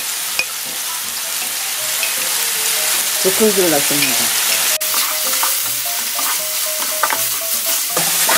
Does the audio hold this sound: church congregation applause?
no